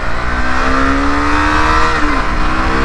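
A Suzuki V-Strom 650 XT motorcycle accelerating hard, its engine note rising steadily in pitch under loud wind rush, close and sustained for a few seconds.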